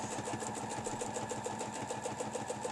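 A sewing machine runs steadily as it stitches a curved line for a ribbon bow design, its rapid, even needle rhythm close and continuous throughout.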